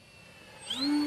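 A radio-controlled XFly GlaStar model airplane flies in, its whining propeller growing sharply louder as it sweeps close overhead.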